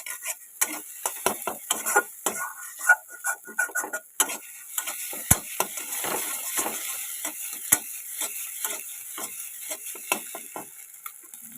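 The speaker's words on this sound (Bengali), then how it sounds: "ডিমটাকে একটু ভুজিয়া টাইপের বানিয়ে নেবো" Egg scrambled into bhujia in a pan, with a continual soft sizzle beneath rapid, irregular scraping and tapping of a spatula against the pan, close and moderately quiet.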